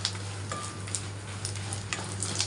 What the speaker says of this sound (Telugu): మిరపకాయలు వేగిపోయినాయి